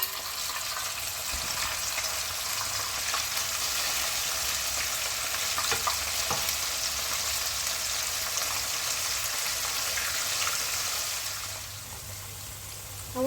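Calamari frying in hot oil, a steady loud sizzle and crackle, with no talk.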